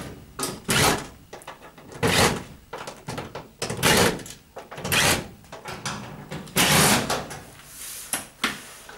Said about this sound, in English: Just undo the screws all the way round